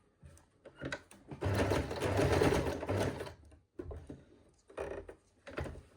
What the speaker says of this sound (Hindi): अब हम यहाँ पर सिलाई को कंप्लीट करेंगे